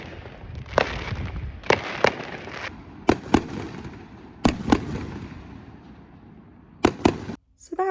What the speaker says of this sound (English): you see a fireworks show happening at an